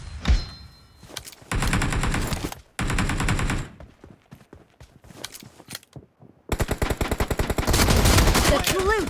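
Shotgun fire in the mobile game PUBG Mobile during a team deathmatch: loud clusters of blasts and rapid bursts separated by short pauses and scattered lighter clicks, building to a dense volley at the end.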